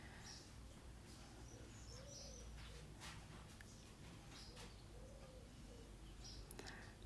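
Birds chirp and coo faintly at feeding time, scattered calls drifting over a steady low background hum, distant and soft throughout.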